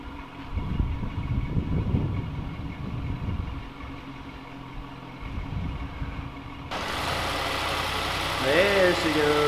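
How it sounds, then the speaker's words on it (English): A cold start of an Audi S7 that has a spoiler fault, first heard as a low rumble under chatter and handling noises, then an abrupt, loud, steady engine roar that settles into a continuous idle. "we will get a cold startup on a Audi S7"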